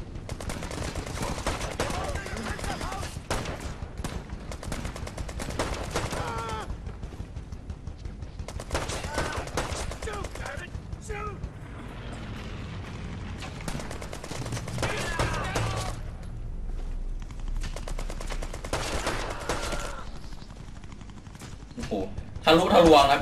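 Gunfire in the mobile war game Brothers in Arms 3 played on a tablet: repeated rapid bursts of automatic weapon fire in clusters with short gaps, loud and close, with someone talking over parts of it.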